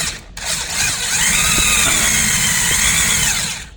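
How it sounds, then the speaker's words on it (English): A handheld power drill bores into a Brembo six-piston brake caliper from a Cadillac CTS-V during a Nissan 300ZX Z32 brake install, whining loud and close, rising in pitch as it spins up and holding a steady grinding drone for several seconds. "just take a drill with a bit on it."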